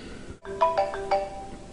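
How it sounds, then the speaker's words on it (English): An incoming FaceTime call chimes on an iPad in a short run of bright, melodic ringtone notes that ring out clearly over a steady background hiss, with no one talking. "Incoming call, we'll accept."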